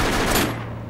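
Gunfire in a multiplayer video game involving vehicles, a loud rapid burst of shots lasting under a second before cutting off into a low lingering tone.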